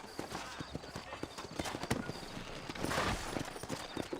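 Horse hooves clip-clop in a quick, steady trotting rhythm in Red Dead Redemption, close and fairly loud, with a brief whoosh of movement partway through.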